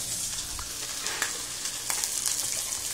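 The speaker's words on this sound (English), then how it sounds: "now that we've got the eggs in the pan, I'm going to do a little bit of mixing around" Three eggs stirred in a hot frying pan, with a steady close sizzle and frying crackle and occasional soft scrapes of mixing.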